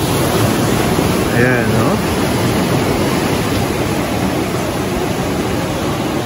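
Ocean surf at the Cloud 9 break in Siargao, a loud, constant wash of breaking waves and wind roar, with a person speaking briefly over the rush.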